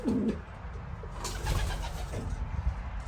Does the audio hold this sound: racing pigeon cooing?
yes